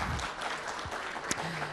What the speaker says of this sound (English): Let's have another round of applause for Baichung Bhutia.